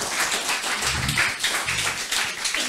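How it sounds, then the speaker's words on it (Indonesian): Audience at a training session clapping together, a close, fairly dense patter of hands with a few louder low thumps mixed in, steady for a few seconds without talk. "Tepuk tangan."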